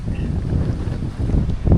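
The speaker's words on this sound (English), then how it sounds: "It's real windy out here" Strong outdoor wind buffets the microphone beside a sawmill site where red oak logs are being hauled, a steady low rumbling roar that swells louder near the end, with no talking.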